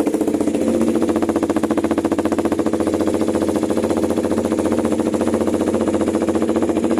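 A KTM Duke 390 motorcycle idles with an AR short-pipe muffler, a close, loud, steady single-cylinder thrum with rapid even exhaust pulses and no revving.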